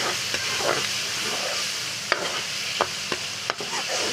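A green chili and spice mixture stirred and frying in a pan for an aloo pakoriyan curry salan, with a steady sizzle broken by several sharp scraping clicks of the spoon.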